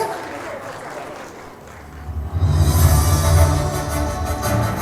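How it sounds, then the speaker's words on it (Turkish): An audience at a Turkish business award ceremony honouring an innovative home-appliance brand breaks into applause after a quieter opening, the clapping swelling and holding fairly loud through the rest. "Alkışlarla uğurluyoruz."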